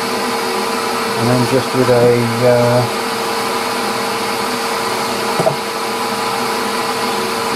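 Wood lathe running up to about 1000 RPM, a steady mechanical hum with tonal whine and brief rising tones early on, loud and close, with a few spoken words over it.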